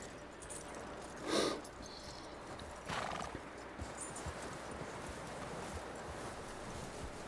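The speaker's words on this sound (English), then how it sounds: "Let's walk this old horsey out here." In the Red Dead Redemption 2 video game, a horse walks with soft steady hoof clops and gives a couple of brief neighs or snorts early on, set against a light wind-like background.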